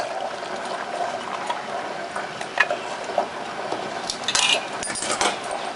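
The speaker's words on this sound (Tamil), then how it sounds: "தண்ணியை நல்லா வடிச்சிடலாம்." Water is drained off pressure-cooked chana dal, giving a steady wet pour and patter with light clinks. It rises into louder splashing bursts near the end.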